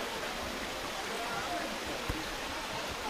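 The Andarax river near Laujar de Andarax, Spain, rushes steadily beside a hiking trail crossing its bridges, a continuous close wash of flowing water with no breaks.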